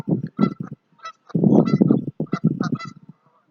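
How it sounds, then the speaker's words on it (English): Geese honk loudly and close by beside a lake dock, a rapid burst of harsh calls, a pause, then a longer run of overlapping honks as one bird chases and nips another. "That one goose is biting the other goose's butt."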